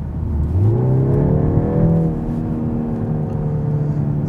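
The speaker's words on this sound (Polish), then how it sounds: "Sztuczny dźwięk silnika. Jest tam jakiś głośniczek, który emituje dźwięki" A synthetic engine note from a BMW 223i Active Tourer's speaker in Sport mode hums steadily, its pitch climbing smoothly then holding a sustained drone, fairly loud and close with no talking.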